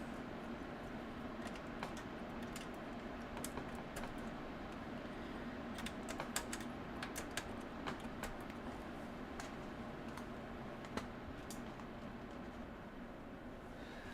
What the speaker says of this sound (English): Let me see if this wireless keyboard works.